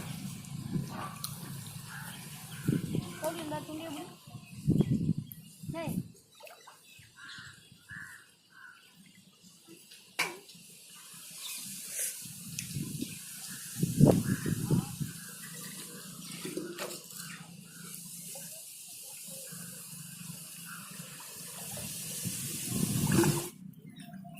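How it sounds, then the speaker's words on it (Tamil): Water scooped and poured by hand at a village outdoor cooking site during fishing, splashing and trickling in irregular bursts over about twenty seconds, with voices talking in between. "இங்கே தண்ணி மொண்டுக்க"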